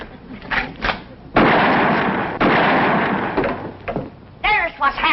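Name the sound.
gunshots fired at a telephone wire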